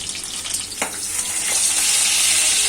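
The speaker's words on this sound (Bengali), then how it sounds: "লাল লাল করে ভেজে নিয়ে মাছগুলো তুলে নেব, বাকি মাছগুলো আবার ভেজে নেব" Katla and bata fish frying in hot oil, a steady close sizzle that swells and holds, with a few soft clinks near the start.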